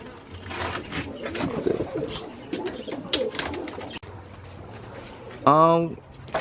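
Roller pigeons kept as breeding birds give a soft coo with a strong pitched call near the end, mixed with ambient chatter and background noise.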